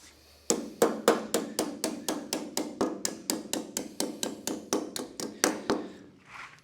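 A hammer strikes sheet metal to bend a hem near a brake, about twenty sharp, ringing metallic blows in a steady, even rhythm, loud and close, with no talking.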